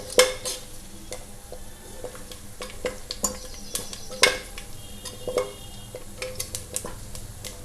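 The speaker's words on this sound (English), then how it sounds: "See, some spluttering sound of the curry leaves is coming out." Curry leaves splutter and crackle in hot oil for an Andhra village-style fish curry, with sharp irregular pops and sizzles and a few light clinks of a utensil against the pan.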